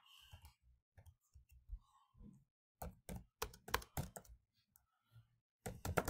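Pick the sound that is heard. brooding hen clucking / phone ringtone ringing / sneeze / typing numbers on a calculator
typing numbers on a calculator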